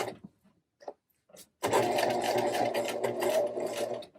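A sewing machine stitches a fly front zipper, sewing close to the fold to hold the guard in place; a steady, loud mechanical whir runs for about two and a half seconds after a few faint taps and handling noises.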